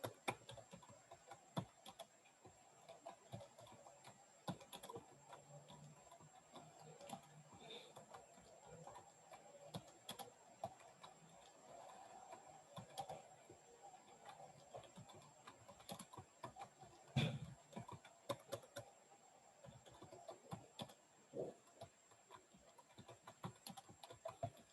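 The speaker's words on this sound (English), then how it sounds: "so I just typed the data, which contains the values yes or no" Typing on a computer keyboard goes on throughout, with irregular, fairly quiet key clicks at a moderate pace and no voices over it.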